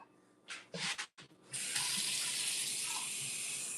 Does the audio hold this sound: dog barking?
no